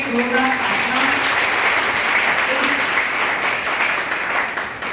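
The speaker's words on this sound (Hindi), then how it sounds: "सकारात्मक भाव के लिए जोरदार तालियां" Loud, dense applause from a large audience at a Mukhyamantri Abhyuday Yojana event, steady clapping throughout with a brief voice at the start, fading slightly at the end.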